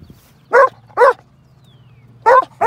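Gun dog, a field champion hunting dog, barking on a Friday evening in Virginia: four loud, sharp barks, two close together, a pause, then two more, over a low steady hum.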